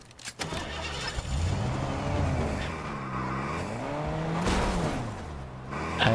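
A car driving in a video game: a revving engine with rising and falling pitch sweeps and squealing, skidding tires, loud and close throughout.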